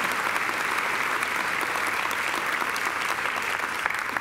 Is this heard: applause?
yes